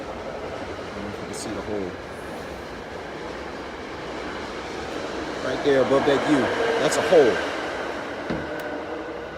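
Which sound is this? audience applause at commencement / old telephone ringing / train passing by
train passing by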